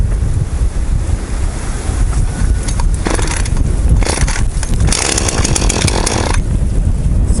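A Husqvarna 135 chainsaw starts and runs outdoors, its loud engine buzz continuous throughout, rising to high revs in bursts and mixed with heavy wind noise on the microphone.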